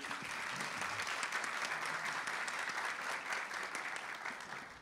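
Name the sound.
audience applause for Éric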